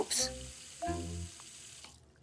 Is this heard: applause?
no